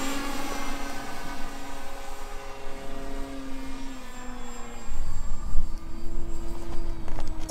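A 1400mm balsa Dancing Wings Stick RC airplane flies overhead, its electric motor whining in a steady tone that slowly drops in pitch, then swells louder and rises again as it passes closer.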